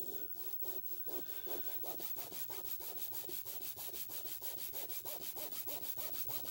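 Polish being scrubbed across a Sega Genesis game cartridge, a steady rapid back-and-forth rubbing with evenly spaced strokes, close and continuous without a break.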